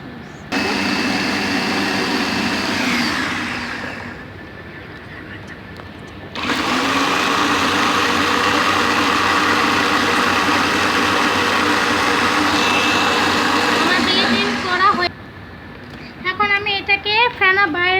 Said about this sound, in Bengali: এখন আমি এটাকে আমি ব্লেন্ডারে এবার আমি ব্লেন্ডিং করব।